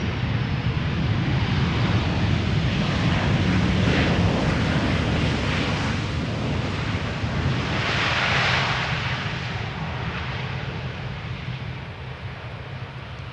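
A SkyTeam-liveried Boeing 737 arriving from Zurich at Schiphol's Polderbaan runway, a broad, steady jet roar heard from outside, continuous and fairly loud with wind buffeting the microphone and a slight swell midway.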